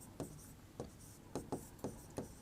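A teacher writes on a board, producing about seven short, distinct chalk or marker strokes in an irregular rhythm, close and fairly quiet.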